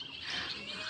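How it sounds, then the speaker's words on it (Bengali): A cuckoo (koel) calls among drumstick trees at the hillside Kaptai Paharika picnic spot, a faint, airy bird call heard briefly and steadily with no talking. "কি সুন্দর কোকিল ডাকে না।"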